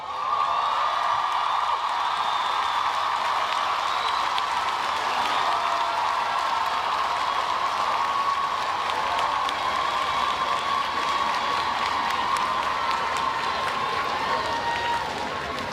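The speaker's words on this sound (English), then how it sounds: "I want to give you to give them the most enormous round of applause." Graduation ceremony audience in a hall gives families and friends a huge round of applause, a dense, continuous wash of clapping with scattered whoops and cheers that holds steady throughout.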